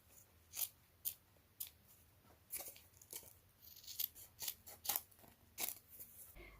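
Scissors snipping through light-coloured fabric, a steady series of close, sharp crunching cuts at roughly half-second intervals, quiet and with no talking.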